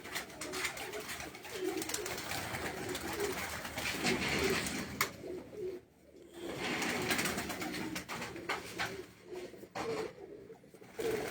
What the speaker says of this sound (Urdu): تو اس سے یہ جی پروازی کبوتر